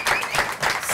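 A television show team in a studio gives a short burst of dense, lively clapping, loud and close. It lasts about a second.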